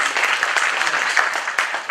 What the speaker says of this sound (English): You and I have been trained to clap.